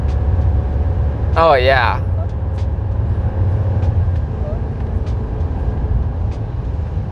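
Chevy 2500 with the 6.6L gas V8 towing a load, engine droning steadily under cabin road noise at full throttle, with a brief spoken exclamation early on.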